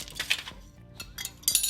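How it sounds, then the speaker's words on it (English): Microphone batteries dropping onto a shop floor, a quick series of small metallic clinks and rattles as they hit and bounce, close and fairly loud. "I think your batteries fell out"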